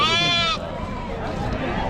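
A large sheep gives one loud, close bleat, then a voice talks over a busy outdoor background at a goat and sheep market in Chakan, Maharashtra.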